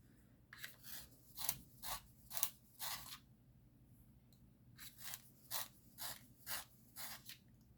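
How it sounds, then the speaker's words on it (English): A pencil being sharpened with a handheld sharpener, two bursts of six or seven crisp scraping twists each, close and fairly quiet against a still room. "I'm going to sharpen this pencil first."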